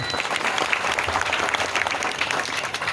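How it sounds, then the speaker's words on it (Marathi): An audience at a devotional performance breaks into dense, sustained clapping that stays even and fairly loud for a few seconds, with no voices standing out. "या आमच्या गंधर्वा करता एकदा टाळ्या वाजवा गड्या."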